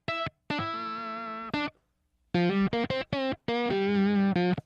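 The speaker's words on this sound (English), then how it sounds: "It's like an octave fuzz," Electric guitar run through an octave fuzz pedal into a Sovtek MiG 50 amp, played as loud sustained notes and short stabs in phrases broken by brief gaps, with a buzzy, harmonically rich tone.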